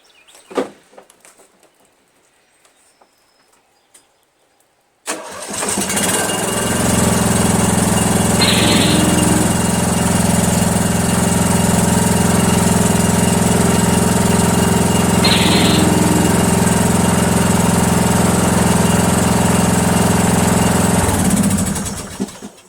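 Toro Wheel Horse lawn tractor with a 16 hp Vanguard engine, heard from close up: a few quiet clicks, then it starts abruptly and idles steadily and loudly for about seventeen seconds before shutting off.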